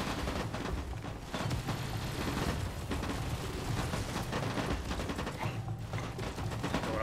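Enemy gunfire in Fallout New Vegas rattles in dense, rapid bursts, a loud, continuous fusillade of overlapping shots with no pauses.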